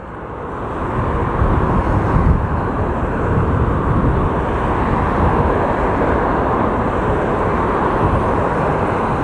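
A steady, heavy roar of a Boeing 757 touching down on the runway in a crosswind at Las Vegas, broad rumbling noise that stays loud and even throughout.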